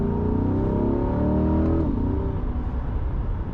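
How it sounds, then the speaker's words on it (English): A C8 Corvette accelerating, its exhaust and intake growl rising loud and close in a steady climbing roar that eases off near the end, heard from inside the car. "you hear a nice little exhaust and intake growl from right behind you"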